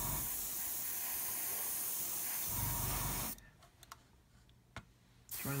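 Airbrush spraying paint onto a Meng 1/35 Mk.A Whippet tank model up close: a loud continuous broadband hiss for about three seconds, then it cuts off to quiet clicks before a short burst returns at the end.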